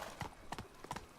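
Hooves of the horse Roach clip-clopping in Witcher 3, a quick run of soft, evenly spaced thuds at a walking pace, fairly faint and close.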